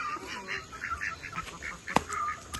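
Several soft duck quacks repeat through the clip over faint outdoor background, with a sharper call near the end.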